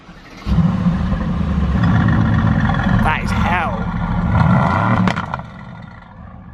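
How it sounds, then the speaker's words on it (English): A supercar's engine idles loudly up close and then gives one short rev that swells and settles, while someone speaks over the rumble. "No video would be complete then without just one little rev."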